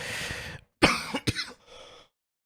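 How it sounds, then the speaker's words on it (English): Two or three harsh, close COVID coughs burst out after a moment of soft background noise, followed by a quieter breathy tail. "COVID cough still."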